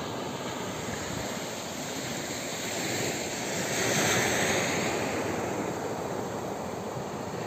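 Large ocean waves surge and break at Santen Island in Banyuwangi, a continuous broad roar of surf that swells louder midway, with no voices.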